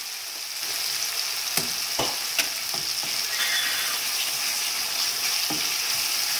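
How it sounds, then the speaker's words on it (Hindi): Cumin and coriander powder masala fries in a pan for a prawn curry, giving a steady bright sizzle throughout, with a few sharp scrape-like ticks from stirring near the start. "अच्छी तरह भून लेंगे।"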